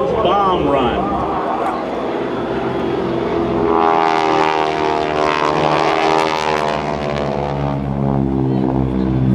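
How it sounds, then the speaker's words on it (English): Propeller aerobatic airplanes of the GEICO Skytypers team roll in on a simulated bomb run at a military open house air show, a loud, rising engine drone that swells and sustains throughout beneath continuous announcer talk. "Watch them roll in on the target, and this is the Solo's bomb run."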